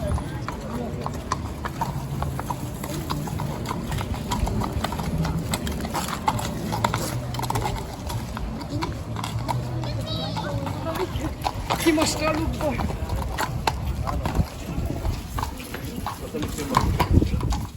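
Horse hooves of mounted guards in Budapest clip-clop steadily on pavement, close and fairly loud, mixed with a busy street crowd and voices talking throughout.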